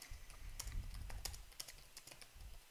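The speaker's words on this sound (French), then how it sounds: "J'appuie sur Entrée et je mets 2 anti-slash" Close, steady typing on a computer keyboard, a run of crisp key clicks with occasional louder taps, heard alone without talk.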